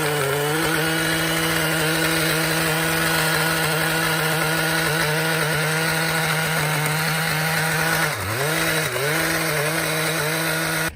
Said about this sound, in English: We've got a cool Geo Ripper, little chainsaw thing. It's like a dirt chainsaw. We're gonna rip them out.